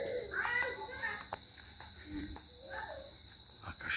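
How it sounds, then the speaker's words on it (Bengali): Crickets chirping at dusk in Niteshwar village, a steady high-pitched trill held throughout at a faint, distant level, while people talk quietly and children's voices carry in the background. "ঝিঝি পোকারা অলরেডি ডাক শুরু করে দিয়েছে"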